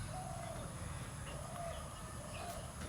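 Domestic ducks call softly outdoors on a morning, a few faint repeated quacking or clucking notes spaced about a second apart over a low background hum.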